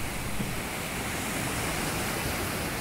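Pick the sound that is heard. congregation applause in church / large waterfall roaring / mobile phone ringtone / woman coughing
large waterfall roaring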